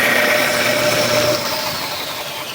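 A Harbor Freight belt sander motor whirs at speed, spinning in reverse, a loud steady hum with a bright whine that eases slightly in pitch and level over about two and a half seconds.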